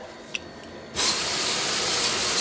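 A water spray starts abruptly and hisses steadily and loudly at a sink as a car AC condenser is washed, after a short quiet stretch with a couple of faint clicks.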